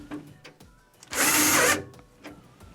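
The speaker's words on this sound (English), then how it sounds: "now we'll reinstall the ground screw" A power driver runs in one loud, steady burst of about half a second, driving a ground screw back into a washer's lid switch assembly during a lid switch repair, with quiet handling clicks before and after.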